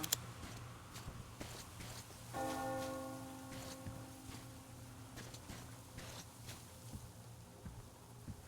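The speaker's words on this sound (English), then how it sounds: "Do you hear that bell?" A church bell in the video game Metro Exodus rings out as one sustained, resonant toll that slowly fades against a steady hiss of background ambience, with no talking.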